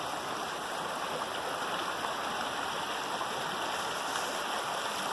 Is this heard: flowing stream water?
yes